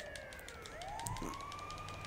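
An ambulance siren wails in the GTA V video game, a rising and falling electronic tone sounding continuously at moderate loudness with a faint thud partway through.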